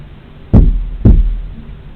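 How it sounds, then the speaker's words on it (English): Two sharp knocks sound in a hotel room, about half a second apart, loud and close against a quiet background hiss. "I just heard 2 knocks, or felt 2 knocks."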